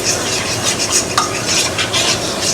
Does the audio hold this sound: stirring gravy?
yes